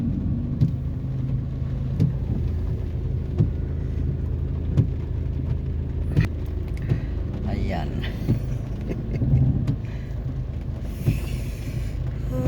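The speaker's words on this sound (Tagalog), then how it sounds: "pababa so traffic talaga at talagang walang tigil ang ulan" Road traffic crawling through steady heavy rain in Baguio City near Burnham Park, with a continuous low rumble of idling engines and rain wash, intermittent knocks and passing vehicles, and someone speaking over it.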